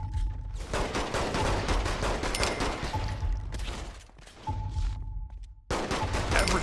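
Gunfire rattles in Saints Row The Third, with dense, rapid bursts of shots that run for seconds at a time and break off in short pauses before starting up again, loud and close.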